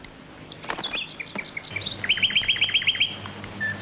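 A pet bird, silent for months, breaks into song: several scattered chirps give way to a rapid run of about eight bright, evenly spaced notes and a closing tweet, close by over a low steady hum.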